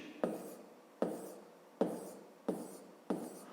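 Numbers written by hand, five distinct pen strokes at an uneven pace, each a short scratchy scrape that fades quickly, close and fairly quiet against a silent background.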